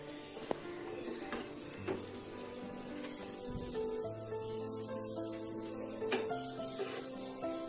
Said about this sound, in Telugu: ప్యాన్ హీట్ అయ్యాక నేను బటర్ అనేది యాడ్ చేసుకున్నాను.